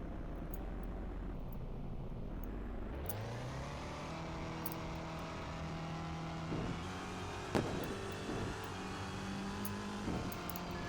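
Race cars, including a Toyota and a Ford, lapping the Monza circuit in a video game, engines rising in pitch as they accelerate and shift, with a sharp passing whoosh midway, fairly quiet and steady.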